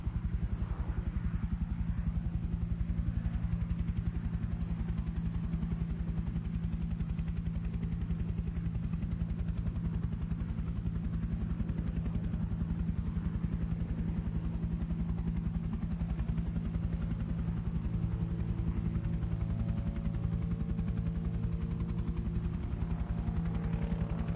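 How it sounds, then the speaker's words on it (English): A Huey helicopter lands in a video game, its rotor and engine making a loud, steady drone that runs unbroken and close throughout with no speech. "The Huey's landing as Loach keeps observation over the area so that QRF feels secure."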